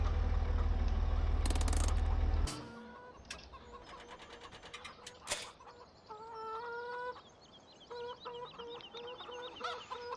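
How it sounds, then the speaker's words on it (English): Chickens clucking on a farm in the game Farming Simulator 17, several short repeated clucks with a tractor or vehicle driving nearby; a loud low rumble opens the scene before fading under the birds. "as we sort of drive through our chickens"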